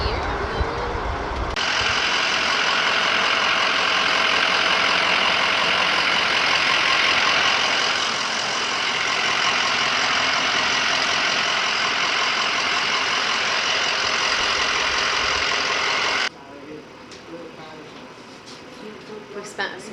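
Engine of a camper van on the move in Georgia makes a steady, close road drone with broad hiss, cutting off abruptly near the end to a quieter cabin; talk is heard over it.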